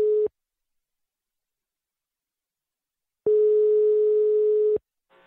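Telephone tone on a call being placed, heard as a short beep, a pause of about three seconds, then a longer steady tone lasting around a second and a half, clear and alone with no talk.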